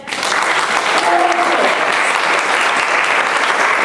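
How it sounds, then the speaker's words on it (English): Audience at a motivational talk bursting into loud, dense applause that swells quickly and stays full and steady for several seconds, with a brief voice near the start. "Somebody give me a clap."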